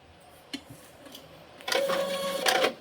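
A home printer starts printing partway through, a busy mechanical whirring and clatter with a steady hum that rises suddenly and holds loud to the end, after a few faint knocks in a quiet room.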